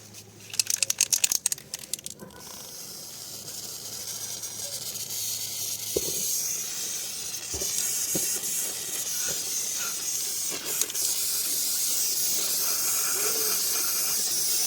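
A can of Ballistol gun paint sprays onto a rusty firearm magazine in a steady, loud hiss that begins after a few sharp clatters and runs on for about twelve seconds, broken briefly by small knocks.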